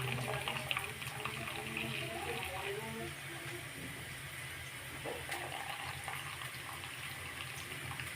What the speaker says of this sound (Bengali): দেখো এখানে চাউমিনের জলটা ঝরিয়ে নিচ্ছি